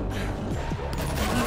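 Gunfire in the zombie shooter World War Z, heard as a soft, distant mix of shots under general game noise, with a faint voice in the background.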